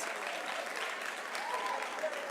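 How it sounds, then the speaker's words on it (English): Applause from the audience at the official opening of the National Arts Festival 2022, a steady wash of clapping at moderate distance, with faint voices and a brief high whistle or call rising above it. "Let me hear a round of applause."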